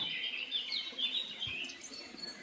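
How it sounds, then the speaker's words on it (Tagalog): Small birds chirp and tweet in quick, high bursts against a soft outdoor hiss beside a clean stream, fairly faint and with no one speaking. "yung narinig mo sa paligid puro huni ng ibon"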